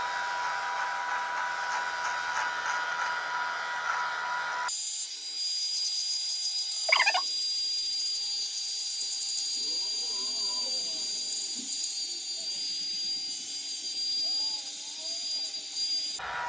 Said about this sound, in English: we're gonna go ahead and trim without the guard, and we'll do the stronger section